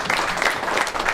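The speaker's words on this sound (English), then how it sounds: "We may only get one applause" A live golf show audience applauds briefly, a short burst of scattered clapping at moderate volume.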